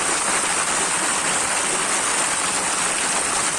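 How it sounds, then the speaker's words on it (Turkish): Marble-sized hail falling on streets in Bursa, an even, dense hiss of pelting ice that holds steady throughout, with no voices. "Yağan doluyla cadde ve sokaklar beyaza büründü."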